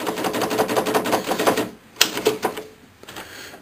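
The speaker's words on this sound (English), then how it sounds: "This is an old German typewriter." An old German typewriter with umlaut keys, in working order, clacks in a rapid run of close, sharp key strikes, then slower separate hits with pauses and a final clack.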